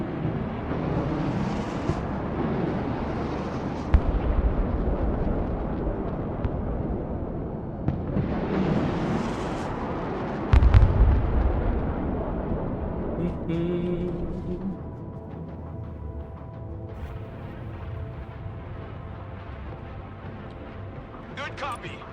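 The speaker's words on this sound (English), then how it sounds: "Cruise missiles coming our way!" Cruise missile strikes in the war video game Broken Arrow: heavy booming blasts with a sharp, loud impact near the middle, rumbling over a dense battle din while someone talks throughout.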